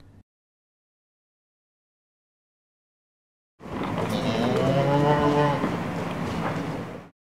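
Cows mooing near Rila Monastery in rural Bulgaria, a single loud, drawn-out low bellow lasting several seconds after a long silence, close to the listener.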